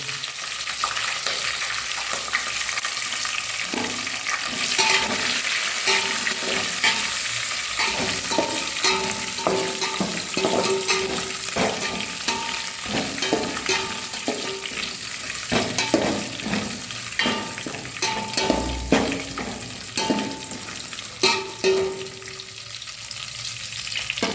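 Chilies frying in oil in a pan for a bachelor pulao, a sustained sizzle with intermittent clicks and scrapes of stirring, close and moderately loud, with no speech.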